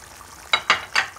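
Ghee hits a simmering rui fish curry with three quick sizzling bursts, close and sharp over a low kitchen background, no talk.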